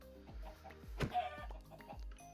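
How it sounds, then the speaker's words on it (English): Chickens clucking in the video game Minecraft, a handful of short, close, rhythmic clucks spaced about half a second apart with one louder squawk in the middle, alone without talk. "Ah, chickens."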